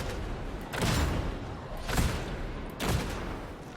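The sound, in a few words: combat shotgun firing in the video game Darktide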